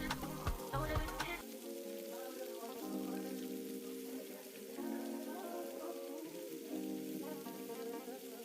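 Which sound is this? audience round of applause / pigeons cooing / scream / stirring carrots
stirring carrots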